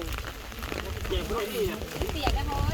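Light rain patters on surfaces outdoors during a bone-collection ceremony, a steady soft hiss running under nearby talking voices.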